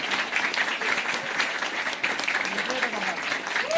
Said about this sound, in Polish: Wielkie brawa, Arek.